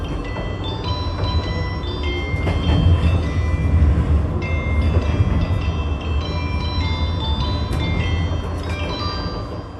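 A JNR 185 limited express train rumbles steadily with rhythmic rail clatter and squealing metallic tones, loud and close, no voices.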